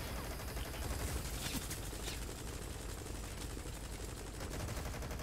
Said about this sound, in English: you just want to just use your submachine gun and try to make sure you hit it